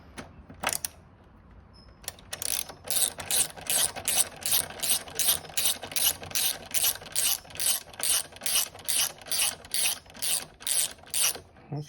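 A ratchet wrench screws a bolt back into a motorcycle saddle bag mount, clicking in a fast, even rhythm of close, sharp ratcheting bursts after a couple of isolated clicks at the start.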